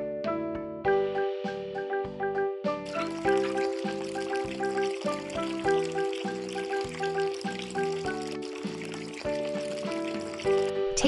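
Hot water from a tap in a video game bath scene rinses Leo, a continuous hissing stream that starts a few seconds in and runs under a bouncy, plucked musical tune.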